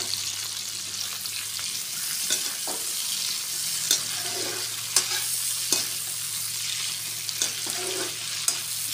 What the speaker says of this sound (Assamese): ধুনীয়াকৈ লৰাই ভাজি আছোঁ।